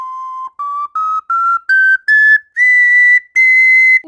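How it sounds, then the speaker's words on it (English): A tiny ocarina plays eight clear whistled notes climbing step by step in pitch, each held briefly with short gaps, loud and close with no other sound. "But this tiny ocarina can play the same amount of notes."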